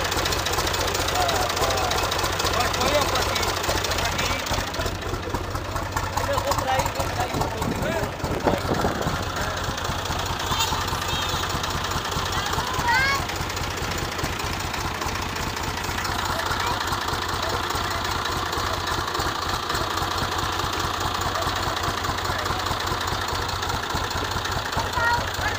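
A tractor engine idles and rumbles throughout with a constant low drone, some vibration and knocking, and a voice speaks briefly over it.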